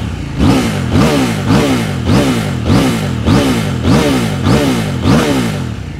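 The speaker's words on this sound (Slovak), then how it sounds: "Sám počuješ, jak tie otáčky letia hore a jak letia dole." A 2024 Husqvarna Svartpilen 801 motorcycle fitted with an Akrapovic exhaust revs in about eight quick, evenly spaced throttle blips, each rising and falling, loud and close with no talking.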